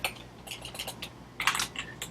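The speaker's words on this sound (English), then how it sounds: "Let's start typing in there." Keys clatter in quick, uneven bursts of typing on a computer keyboard, with short pauses between the runs of clicks. The sound is close and fairly quiet, over a faint low hum.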